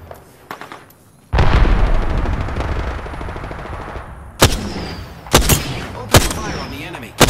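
Gunfire in the video game Apex Legends: a long, loud burst of rapid automatic fire, then several sharp single shots spaced about a second apart.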